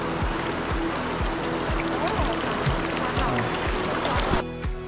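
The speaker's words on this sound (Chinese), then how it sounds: "我们一群人小心翼翼地穿越溪水" Stream water flowing steadily around a group crossing a creek in the Dajia River area of Taiwan, a continuous close wash with soft rhythmic splashes from footsteps throughout.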